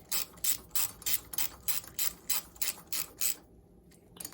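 A ratchet tightens bolts on a 1973 Honda PC50 moped in a steady run of about a dozen crisp, close clicking bursts, then goes quiet near the end.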